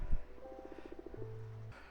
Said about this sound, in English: I gotta go catch some more frogs.